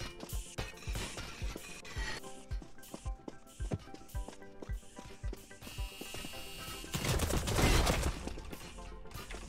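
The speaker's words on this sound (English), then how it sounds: "They're not even shooting me, they're shooting the ground." Video game gunfire crackles in rapid, irregular bursts of sharp shots, swelling into a denser, louder volley near the end.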